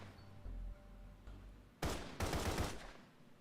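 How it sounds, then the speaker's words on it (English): Gunshots ringing out from a crowd in an audio drama, two loud bursts of rapid fire with a brief gap between them, following quieter low rumbling and standing alone without voices. "gunshots start ringing out from the crowd"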